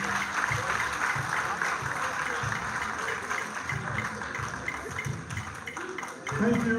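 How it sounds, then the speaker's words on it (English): Sustained applause from a crowd welcoming a speaker at a university campus event, steady clapping filling the room with faint voices mixed underneath. "With a resounding round of applause"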